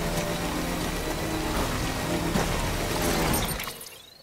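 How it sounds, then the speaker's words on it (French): Steady rain in the video game Death Stranding, a dense even wash of falling water heard alone, holding loud before fading out near the end. "Ah bah oui, il pleut."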